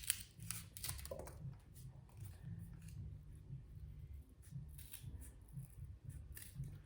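Scissors cut around a shape in cardboard flap for a yarn heart banner craft, making a series of close, crisp snips and crunchy rasps in an irregular rhythm, with faint background rustling.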